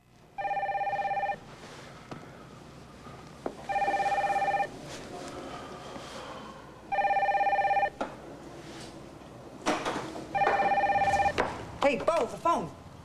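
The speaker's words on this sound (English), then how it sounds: "Hey, Bo, the phone" A telephone on the 1998 soap opera One Life to Live rings in four loud, evenly spaced bursts, with quiet room sound and brief voices between the rings.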